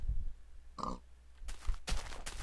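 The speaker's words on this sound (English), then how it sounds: "Maybe I heard the pig." A single short, pitched grunt from a pig rings out midway, followed by louder clattering game sounds and bursts of noise.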